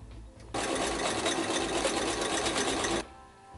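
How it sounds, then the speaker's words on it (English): A sewing machine runs a wide zigzag stitch over elastic in one steady, fast whirring burst of about two and a half seconds, close and clear, with quiet room tone before and after. "So for zigzags on elastic, I tend to go with a much wider stitch and a narrower step and a wider stitch."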